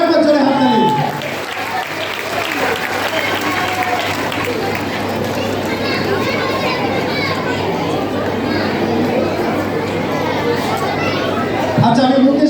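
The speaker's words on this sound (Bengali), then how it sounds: "আরেকবার জোরে হাততালি" Sustained applause from an audience at a dance academy felicitation event, a steady dense clapping with crowd chatter and children's voices mixed in, holding loud for the whole stretch and fading slightly near the end.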